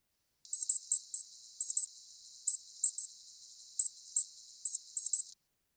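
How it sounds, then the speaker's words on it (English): Chickadee seet alarm calls: thin, very high-pitched seet notes given in short clusters of one to three, spaced irregularly over about five seconds, clear and alone with no other sound. "we call the seat alarm call, and that sounds like this."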